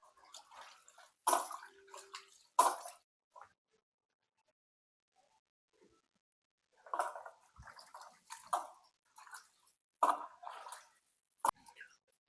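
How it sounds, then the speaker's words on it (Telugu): Boneless chicken being washed by hand in water, two or three rinses for a large batch of chicken pickle, with bursts of splashing and sloshing separated by quiet pauses, close by and moderately loud. "సో మంచిగా ఇట్లా చికెన్ అయితే 2-3 సార్లు మంచిగా కడుక్కొని వేరే దాంట్లోకి అయితే తీసుకుంటున్నారు"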